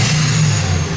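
A GMC Sierra truck engine runs steadily, a loud, even low hum with a constant drone and no talking.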